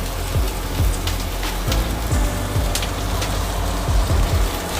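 Sliced onions sizzle and crackle steadily in hot oil in a pan for a Bengali chicken curry, turning lightly golden, with occasional louder spits and pops over a continuous close frying hiss.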